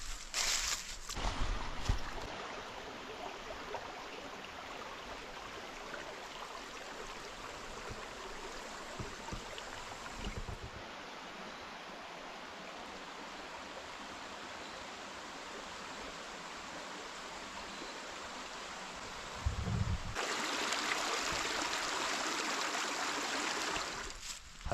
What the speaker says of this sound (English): See a little creek down here, so let's go check it out.